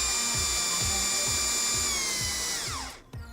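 A power drill drives a small 1.5-inch T-Star Plus screw into a fixture, its motor whining steadily with a rhythmic pulsing beneath, then spinning down abruptly as the screw seats, ending with a sharp click, close and loud with no talk.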